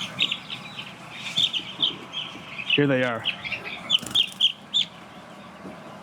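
One-week-old chicks chirp in a steady high twittering chorus at close range, with someone talking calmly over them while handling one of the birds.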